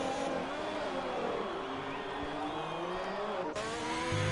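A race car in a racing video game braking down into turn 1 at Bahrain, its engine note dropping in steady downward sweeps as it decelerates, loud and continuous, with a brief cut near the end.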